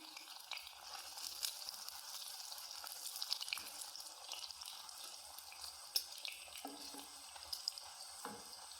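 Pieces of wheat flour and egg batter fry in a pan, giving a soft, steady sizzle with faint crackles and occasional small clatters of a utensil, fairly quiet and with no talking.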